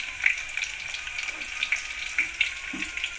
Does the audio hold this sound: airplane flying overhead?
no